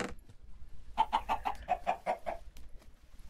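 Blocky chickens in Sky Factory 4, a Minecraft modpack, clucking in a rapid run of about eight close, fairly loud clucks, then quieter scattered noises and no talking.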